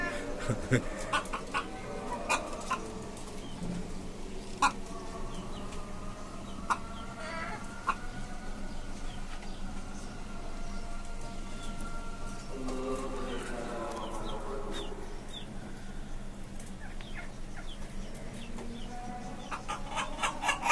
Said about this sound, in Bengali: হচ্ছে আমার দুষ্ট কালো মুরগি ও যেখানে যায় সেখানে মারামারি করে